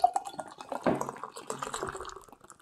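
Fidens Jasper New England double IPA beer poured hard into a glass, a splashy liquid rush with foamy fizz that starts strong and gradually tapers off.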